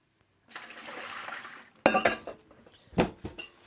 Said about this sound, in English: I'm just going to sort of drain these off